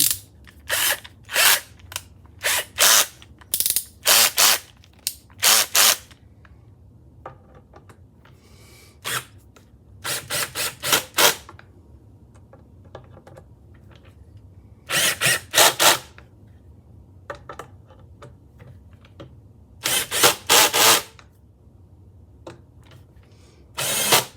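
A power drill set for driving screws runs in repeated short bursts while building a custom Telecaster guitar, about a dozen whirring pulses in close clusters with quiet gaps, loud and near.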